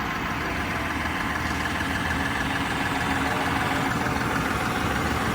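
A Mahindra 5620 tractor engine runs steadily in low gear, a continuous loud mid-low rumble with even idling-like throb and no pauses, pulling a Shaktiman implement at a farm gathering.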